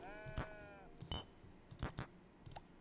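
Several short sheep bleats from a video game in quick succession, fairly faint and close, with brief gaps between the calls.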